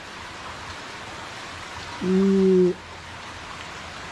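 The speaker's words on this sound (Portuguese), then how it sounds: "Graças a Deus, chuva torrencial" Torrential rain falls on a city street in the Bate Quente neighborhood of Feira de Santana, Bahia, as a steady, even hiss, broken once by a brief tonal blip.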